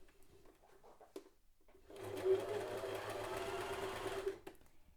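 Sewing machine running a seam along cording, a steady loud mechanical whir lasting a couple of seconds after a few faint handling clicks, then stopping.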